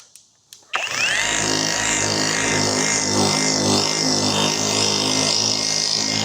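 A cordless buffer polisher with variable speed from 1000 to 5200 RPM spins up after a couple of soft clicks, then holds a steady, loud motor whine with a pulsing hum as it works rubbing compound over a car surface.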